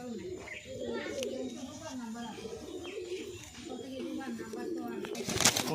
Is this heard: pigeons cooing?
yes